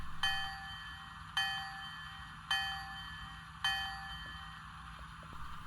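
A Bachmann Transcontinental Railroad 150th Anniversary set model locomotive's sound-effect bell rings four times at an even, unhurried pace, each clang ringing out and fading, with a low steady hum underneath.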